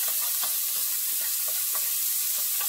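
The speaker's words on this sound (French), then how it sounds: "Nous avons retenu un tout petit peu d'huile dans laquelle nous allons sauter nos oignons avec le feu assez" Onions sautéing in a little oil over fairly high heat give a steady, close sizzle with light stirring clicks, and no one speaks.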